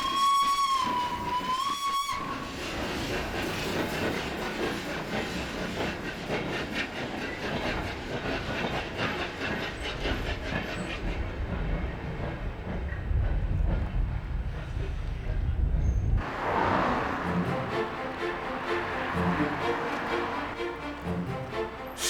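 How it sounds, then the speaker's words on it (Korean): A loud steam locomotive whistle shrieks at the start in Manchester, then the train rumbles and chugs steadily with rhythmic clanking and hissing, swelling louder near the end. "세계 최초의 증기기관차가 바로 이곳 캐슬필드에서 힘찬 기적소리와 함께 역사적인 첫 운행을 시작했습니다"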